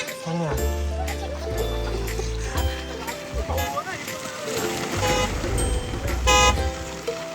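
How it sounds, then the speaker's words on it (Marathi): On a rainy ghat road, a vehicle approaches with a sustained engine drone and repeated horn toots, nearby and loud, while people talk over it. "गाडी येते"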